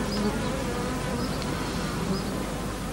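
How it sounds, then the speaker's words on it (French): Bees gather around a damp tray, their buzzing steady and dense, close and continuous, with no voices over it. "attire les abeilles dans un bac humide"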